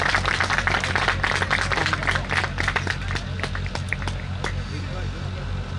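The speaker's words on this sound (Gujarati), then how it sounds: "તાળીના ગગડાટથી વધાવો।" Applause from an audience welcoming a guest at a Gujarati folk dayro, heard as dense, steady clapping that fades slightly toward the end. A voice talks over the crowd.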